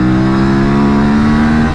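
Loud, close roar of a 2024 Aprilia RS 457 sport motorcycle engine accelerating, with strong tonal harmonics, holding a steady high rev throughout, no voices.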